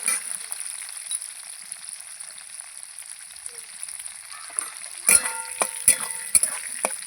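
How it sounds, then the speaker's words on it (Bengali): Cut potatoes fry in a pan with salt, giving a continuous soft sizzle punctuated near the end by louder clatters of stirring. "আলুটা কিন্তু এবার লাল লাল করে আমি ভেজে নেব"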